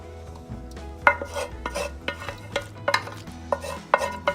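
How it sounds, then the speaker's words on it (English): A spoon scoops a French onion casserole of pasta, beef broth and caramelized onions into a 9x13 baking dish. Close, uneven scrapes and sharp clinks of metal on the dish come in bursts, with no talking. "we are going to transfer that into this 9x13 baking dish, like so."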